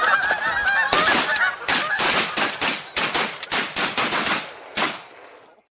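A handmade goose call blown in loud, rapid honking bursts, a rough machine-gun-like series of close clucks and honks ending abruptly.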